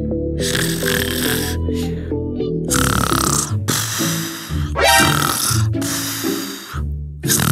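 A sleeping person snores loudly and repeatedly, with rough nasal snorts and grunting breaths in an irregular rhythm, close and alone.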